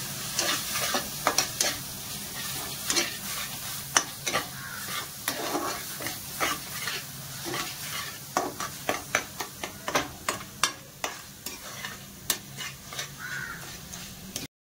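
Masala paste of red chilli powder and salt fries in a pan under a steady sizzle, with a spoon scraping and stirring in quick repeated strokes that grow more rhythmic toward the end, no voices.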